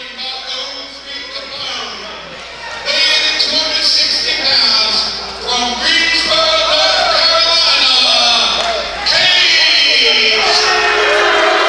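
A loud wrestling crowd at a Worldwide Wrestling Alliance heavyweight title match roars, whoops and shouts continuously, swelling stronger after the first few seconds, while an announcer talks over the noise.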